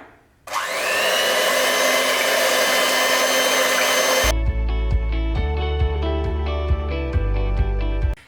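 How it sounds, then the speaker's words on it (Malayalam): An electric beater whips eggs for a no-oven Black Forest cake, a loud, steady motor whine that shifts partway through to a deeper hum with rattling against the bowl. "ഞാനൊരു ഇലക്ട്രിക് ബീറ്റർ ഉപയോഗിച്ചിട്ടാണ് അത് ബീറ്റ് ചെയ്തെടുക്കണത്"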